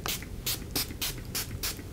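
Makeup setting spray misted in six quick, evenly spaced puffs, each a short bright hiss close to the mic, over a faint background with no speech.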